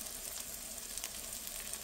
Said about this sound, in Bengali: এখন আস্তে আস্তে ভাজা হোক। বেগুনটা এক পিঠ হয়ে গেছে, আমি উল্টে দিয়েছি।